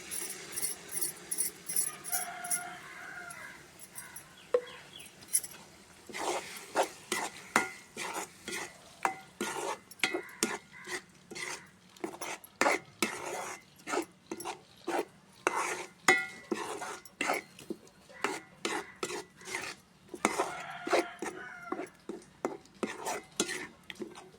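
Ground tomato for a Trichy-style tomato pickle is stirred in hot oil, a spoon scraping the pan in fast repeated strokes over a soft sizzle, close and steady without speech.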